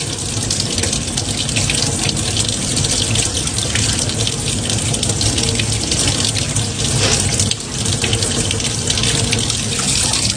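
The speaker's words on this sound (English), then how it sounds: "Hot water. Run the cap under there for a good 15 seconds." Hot tap water gushes steadily over a squeeze bottle cap held beneath the faucet, a loud, unbroken rushing splash filling the sink for several seconds with no speech.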